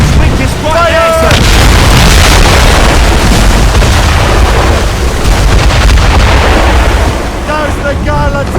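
Ship cannons fire in a naval battle in Assassin's Creed Rogue, heavy booming blasts rolling under continuous loud battle noise and shouted crew voices throughout.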